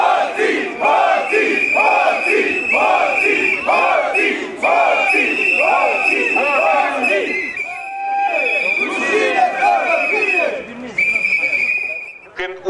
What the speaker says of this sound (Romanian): au protestat în fața Palatului Administrativ din Suceava, scandând lozinci și huiduind guvernarea actuală.